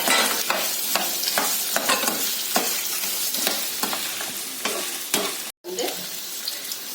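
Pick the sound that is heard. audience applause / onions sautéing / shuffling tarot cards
onions sautéing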